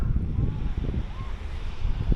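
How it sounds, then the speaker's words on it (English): Steady wind buffeting the microphone at a warm, windy beach in Fujisawa, Kanagawa, with a continuous low rumble and faint surf beneath, no talking. "Pretty windy today, but it's warm."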